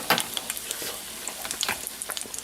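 Oil sizzles and crackles steadily in a frying pan as gyoza dumplings fry, with close, irregular pops and spits throughout.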